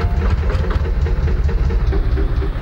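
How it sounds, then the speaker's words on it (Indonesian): A junk truck found under a bridge sits idling after being started, its engine giving a steady, loud low rumble with uneven pulsing throughout, close by and with no talk over it. "Yuk nyalakan mesin."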